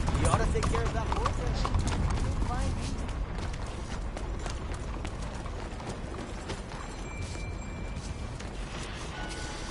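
Steady clip-clop of horse hooves in the video game Red Dead Redemption, with faint mechanical clicks, close and continuous, as a voice talks over it.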